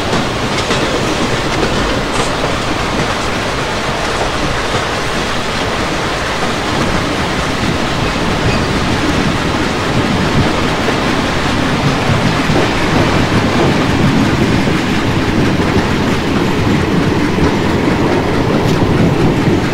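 A WAG9 electric locomotive hauling BCN wagons toward Bhusaval in a simulator rumbles loudly and continuously, a dense, unbroken roar of rolling stock with no voices.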